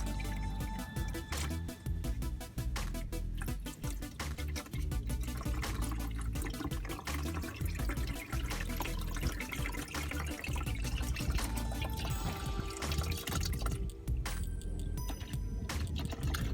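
Engine oil from a 2017 Honda Accord Sport with a CVT drains into a catch pan with a net on top, a steady, close pouring splatter that runs continuously.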